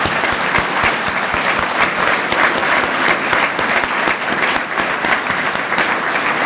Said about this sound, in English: we can now give all of them a big round of applause